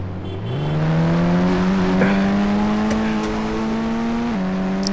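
Military car engine in a video game, loud and steady as it drives, revving up early and holding a rising drone with a brief dip near the end.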